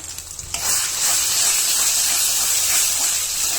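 Ground pointed gourd paste drops into a hot pan of oil, bursting into a loud, close, steady hiss and sizzle that holds evenly after a quieter opening moment.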